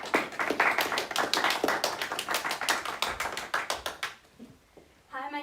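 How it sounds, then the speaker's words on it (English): An audience applauds presenters at a school event with a quick run of sharp claps, fairly close, that thins out and stops before a voice starts speaking at the end. "So if you would give our presenters a round of applause"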